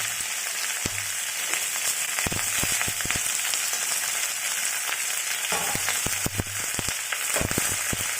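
Sliced onion and chopped chilli fry on a high flame in a steady, loud sizzle, with sharp crackles and pops scattered throughout and no voices.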